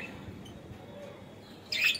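Lovebirds give a short, bright chirp near the end, preceded by a faint, quiet room background.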